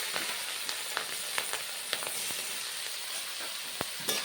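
Chopped onion frying in oil with panch phoron, dry red chili and bay leaf, a continuous close sizzle with occasional sharp pops and crackles.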